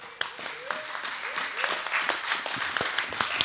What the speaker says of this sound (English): Let's clap for Henry.